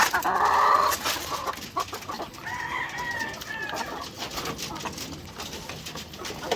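A flock of chickens eating feed, with close clucking and bird calls over a busy rustling background, a loud call at the start followed by steady murmuring clucks.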